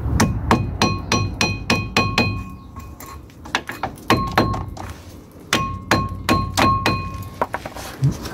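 A hammer strikes a wooden block to drive out the wheel bearing of a Peugeot 3008, producing a run of sharp, close metallic knocks with ringing overtones, first in a quick steady series, then in irregular bursts, with no talking.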